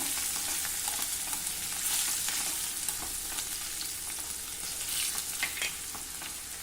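Green chilli pieces, a pinch of asafoetida and two dried red chillies sizzle steadily in hot oil alongside fried peanuts for mango rice, a close, continuous crackling fry with small pops throughout.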